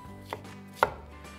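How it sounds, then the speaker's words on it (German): A kitchen knife chops bell pepper into pieces on a cutting board, giving two sharp, close knocks in quick succession over faint background hum. "Ich nehme jetzt gerade wieder die Paprika, schneide die"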